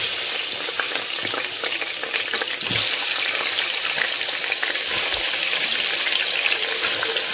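Chicken pieces sizzle and fry in about a spoon of oil inside a pressure cooker. The steady, loud crackle carries small bursts of stirring and no talk.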